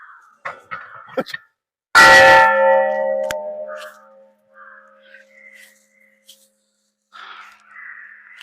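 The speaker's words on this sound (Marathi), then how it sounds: "एवढी प्रचंड घंटा आहे बघा" A huge bell at the Shri Mhasoba temple in Kharawade, near Pune, is struck once, giving a loud clang that rings on with a long decaying hum. Faint soft sounds come before and after it.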